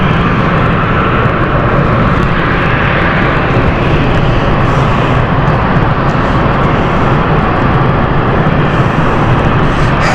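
A jet airliner roars loudly and continuously close by as it lands on a steep approach at London City Airport on a stormy night, a broad sustained rumble without voices.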